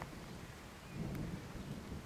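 Faint mountain rain falling steadily in Chimgan, with a low distant rumble of thunder underneath; quiet and continuous, no voices.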